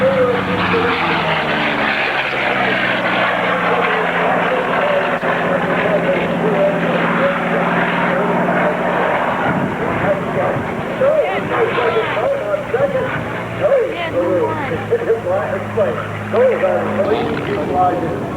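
Aircraft racing at EAA Oshkosh 2009 produce a steady, broad engine drone, present throughout and overlaid by a commentator talking over a public address.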